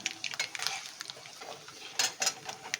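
Cashew pieces frying in oil for shavige uppittu, stirred with a utensil that gives light, uneven scrapes and clinks against the pan, quiet and close with no talk.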